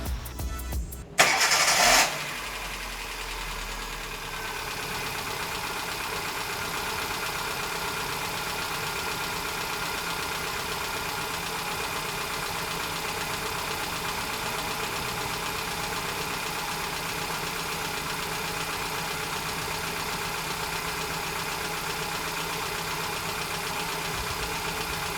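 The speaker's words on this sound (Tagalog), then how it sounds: "So ito yung tunog ng makina before ko ito i-adjust." A Hyundai Getz engine, before a valve clearance adjustment, cranks and catches, then settles into a steady idle with a faint ticking, heard close and alone for over twenty seconds.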